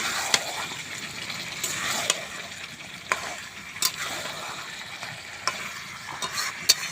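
Chicken meat is stirred and fried in oil in a pan, giving a steady soft sizzle broken by repeated sharp scraping clicks of the spoon against the pan, close and fairly quiet, with no talking.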